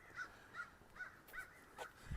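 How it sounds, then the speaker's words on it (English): A run of harsh crow caws in a steady rhythm, about five calls spaced evenly, heard outdoors at moderate distance with a soft thump at the end. "Crows."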